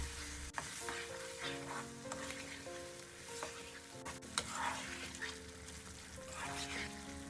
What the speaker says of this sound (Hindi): क्रीम शामिल करने के बाद इसे अच्छी तरह से मिक्स करेंगे।